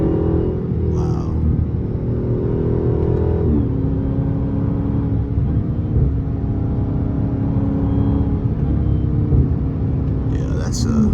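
A Dodge Charger Hellcat with its mid muffler deleted rumbles with a deep, loud, continuous exhaust drone as it revs and downshifts, with occasional exhaust pops and a voice heard over the engine.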